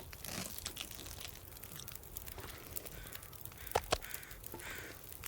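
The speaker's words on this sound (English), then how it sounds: "That sounds like bear crows." Crows caw near a bear in The Long Dark, with a couple of sharper calls standing out over faint crinkly rustling and a low, quiet ambient bed.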